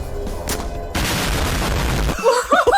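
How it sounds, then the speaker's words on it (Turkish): An RPG rocket launcher fires in a SpongeBob horror video game, a sudden loud blast followed by a sustained roaring rush, with voices briefly audible at the end. "Abi RPG ile vuracak şimdi"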